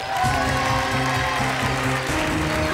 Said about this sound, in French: sous un tonnerre d'applaudissements